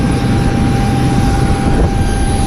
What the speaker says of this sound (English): Here's our airplane.